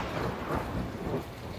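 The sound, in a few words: thunder and rain sound effect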